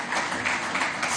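Audience applause at a Christmas-themed public event, a brief burst of dense clapping from a crowd, moderately loud and steady.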